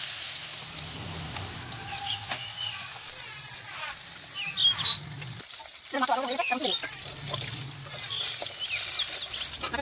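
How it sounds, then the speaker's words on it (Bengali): Fish frying in a pan for a Bengali ridge gourd curry: a steady, moderate sizzle and crackle, with a few stirring sounds partway through. "মাছটা ভেজে নিচ্ছি।"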